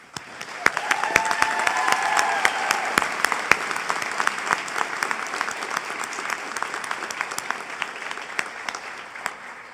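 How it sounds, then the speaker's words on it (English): A graduation commencement audience for the 2022 graduates at a technical college breaks into sustained applause, dense clapping that builds quickly and holds steady for about ten seconds with no voices over it. "Let's give a round of applause to our 2022 graduates."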